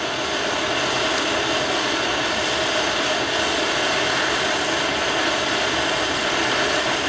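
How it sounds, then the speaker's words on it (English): A MAP gas torch heating a steel AK rifle part for heat treatment, a steady loud roaring hiss that stays constant and close throughout with no other sounds. "MAP gas isn't super, super hot, but it's hot enough to bring this up to temp quickly."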